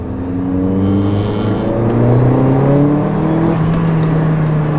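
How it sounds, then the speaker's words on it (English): A 2015 Mercedes-Benz GLA 45 AMG crossover's four-cylinder turbo engine accelerates hard in manual mode, heard from inside as rising tones climb through successive gears, loud and continuous with a faint turbo whine. "It's just funny to have that high-strung 4-cylinder turbo noise out of a luxurious little crossover German car."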